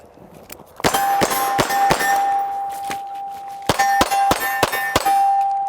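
Pistol rounds striking a steel target, each hit a sharp metallic clang with a ringing tail, in two quick bursts of about four to five shots separated by a short pause, loud and close with no talk.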